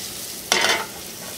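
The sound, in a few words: chicken pieces browning in a pan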